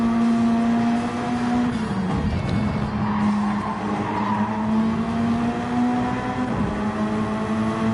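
Race car in Gran Turismo 7 braking late, with a steady engine drone and tire squeal and skidding as cars scrub through a corner, loud and close throughout.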